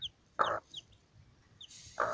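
Two short bursts of hen clucking, one at the start and one near the end, with faint chirping of small chicks in between.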